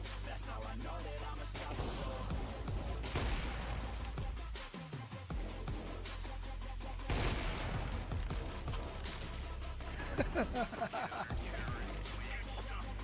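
Gunfire rings out in a match of the video game CS:GO 2, with bursts and single shots repeating through a dense, busy game mix and a voice speaking occasionally.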